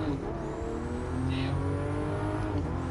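A race car in a racing video game roars around a long track, its engine holding a steady, moderately loud whine with slight pitch shifts.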